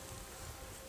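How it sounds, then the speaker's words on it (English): Bees buzz faintly and continuously in a brief moment, with a steady, soft droning hum. "These bees have gotten pretty aggressive."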